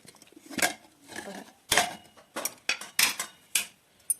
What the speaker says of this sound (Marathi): आता आपण कुकर उघडून पाहू.